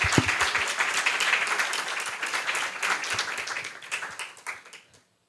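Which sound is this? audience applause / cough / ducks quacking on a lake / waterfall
audience applause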